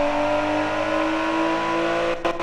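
Tuned car engine revving hard in the Automation car-building game, a loud sustained high-pitched drone held steady with a couple of brief dips near the end.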